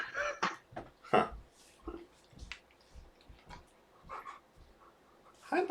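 A dog pants in bursts of quick, breathy huffs with occasional soft whimpers, close by and fairly loud, in a quiet indoor room.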